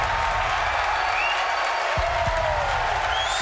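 A crowd watching a rocket launch cheers and applauds after booster separation, a loud, constant roar of clapping and cheering that fills every moment, with occasional brief whistles or tones rising through it.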